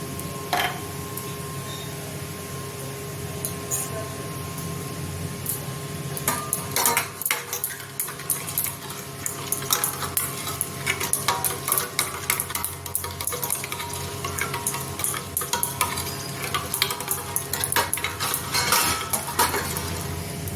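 Fried eggplant is mixed with turmeric and salt in a bowl, with soft scraping and clinking of a utensil against the dish in a continuous, quiet stirring rhythm.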